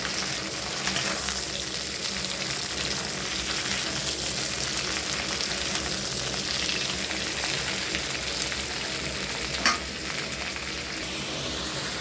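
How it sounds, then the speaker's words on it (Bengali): Meat sizzles and fries steadily with spices in a pan while being stirred, a continuous crackling hiss with occasional scraping and one sharp clack near the end. "দশ মিনিট ধরে লাড়বো এতে, যাতে মশলাগুলো যাতে গায়ে গায়ে"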